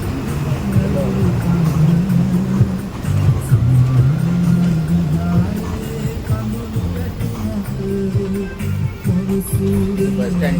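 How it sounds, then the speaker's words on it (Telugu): Traffic at a bus stand in Kandy, Sri Lanka: a steady rumble of idling and passing engines, close and loud for the whole stretch, with people talking over it. "Bus stand."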